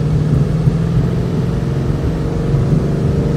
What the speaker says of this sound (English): Sounds really nice with that four-light exhaust.